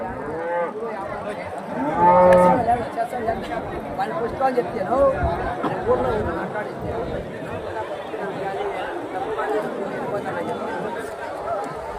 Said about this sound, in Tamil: எல்லாம் பெரிய பெரிய பெரிய மாடுங்க தான் இங்கே இருக்கிறது